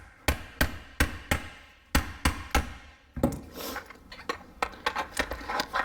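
Repeated hammer blows on a stuck part of a blower motor assembly during teardown, sharp metallic strikes in an uneven rhythm, closer and louder at first, then quicker lighter taps with clattering.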